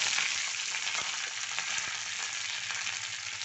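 Dried red chillies and curry leaves sizzle loudly in hot oil after mustard seeds have popped, a tempering for a mango pickle, heard as a close, steady crackling hiss with faint stirring ticks.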